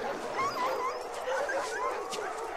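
A sled dog whimpers close by in a series of short, high, wavering whines, fairly quiet and repeated over a couple of seconds, with a soft background hiss.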